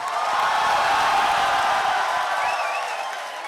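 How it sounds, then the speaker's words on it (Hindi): An audience at a poetry mushaira at the University of Lahore applauds as the poet Tehzeeb Hafi is welcomed, giving a dense, steady wash of clapping and crowd noise that stays loud and then eases slightly near the end. "आप सबकी भरपूर तालियों में और तालियों में ही तशरीफ लाते हैं जनाब तहजीब हाफिज"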